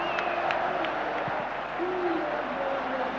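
Around 30,000 fans in a football stadium react to a missed chance by Craiova, a broad, steady crowd roar with scattered whistles and hoots, distant and sustained.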